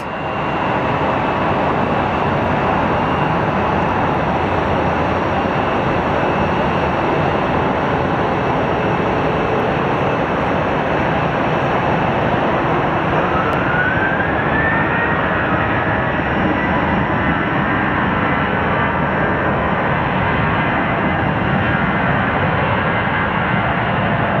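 A small tail-dragger airplane lands at Sky Harbor Airport, its engine a steady, loud drone over broad wind-like roar, with a faint rising whine partway through; no voices.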